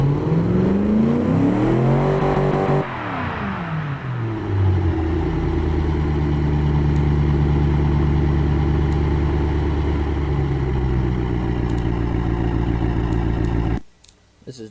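A 289-horsepower engine in the game Automation is revved on a dyno test, climbing and dropping through loud, rising and falling engine tones before holding a steady high drone, then cutting off abruptly near the end.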